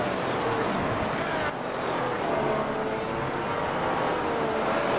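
Race cars in the iRacing sim battle for position through the Spa-Francorchamps chicane during a Grand Prix Series race, a steady loud engine drone with a rising whine partway through, continuous for the whole stretch and no clear voices.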